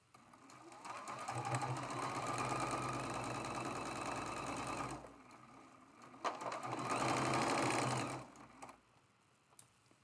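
A sewing machine stitches quilt pieces in two close, rapid whirring bursts of several seconds each, separated by a short pause, then falls quiet with a faint click.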